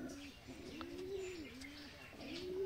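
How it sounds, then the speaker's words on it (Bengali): Soft, low coos of a pair of native Bengali domestic pigeons rising and falling in a repeating pattern, faint and close, with a few light chirps behind. "আর এই একজোড়া দেশি পায়রা আছে এখানে।"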